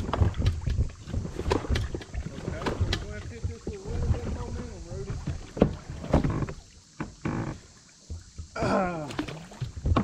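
A NuCanoe Unlimited canoe is paddled on a river, with paddle strokes splashing and dripping close by, mixed with wind buffeting the microphone and people talking over the water.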